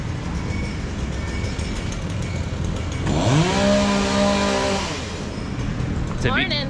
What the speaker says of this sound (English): With the sound of a chainsaw cutting trees